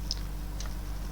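A router configuration command being typed on a computer keyboard: two light, separate key clicks over a quiet room hum.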